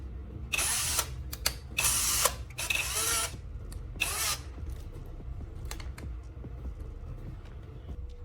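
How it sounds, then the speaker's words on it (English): A drill chuck being tightened by hand around a graphite stick, giving several short, close ratcheting bursts followed by faint clicks and handling noises in a quiet room. "Slide the graphite stick into your drill chuck and tighten it gently."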